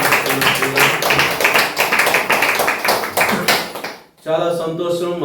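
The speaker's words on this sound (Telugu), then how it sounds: "చేతులను చప్పట్లు కొట్టి ప్రభు నామములో" A congregation claps hands in steady rhythm at a Telugu Christian church gathering, dense repeated claps over a voice, then someone speaks.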